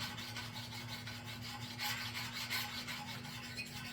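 A Council Tool Jersey axe bevel scrapes steadily on the coarse side of a sharpening stone, making a continuous close gritty rubbing rasp with a faint steady hum beneath and no voices.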